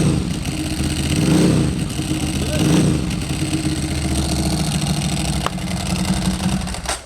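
A V-twin motorcycle engine idles with a deep throbbing rumble, revving up twice in quick swells before settling back, close by, with voices faintly beneath.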